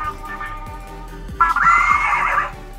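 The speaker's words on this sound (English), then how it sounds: "Oh my gosh, it's a horse." Magic Mixies toy cauldron playing an electronic horse neigh, a bright whinnying tone that starts partway through and lasts about a second, loud and close over a background of faint rhythmic toy sounds.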